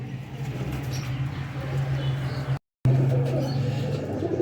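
Pigeons sitting in a box, soft close cooing and low murmuring over a steady background hum, with a brief dropout partway through and light rustling.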